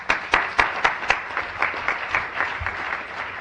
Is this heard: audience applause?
yes